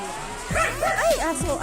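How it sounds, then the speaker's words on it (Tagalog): A dog barks in a run of short, fairly close yips and bow-wows at a house during a family gathering in the Philippines, with people talking around it. "Ay, aso."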